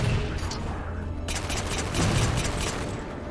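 A grenade detonates in the video game Halo Infinite, a dense booming blast amid continuous gunfire, loud and close, with a burst of crackling impacts midway.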